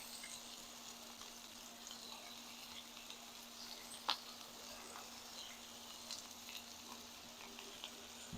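Butter cubes and garlic sizzle steadily on a moderately hot cooking surface, a faint, even crackle with a few sharper pops, no voices over it.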